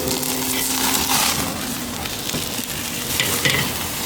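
Ribeye steak sizzling loudly on a grill right after being flipped, a steady close hiss of searing meat with crackles and pops throughout.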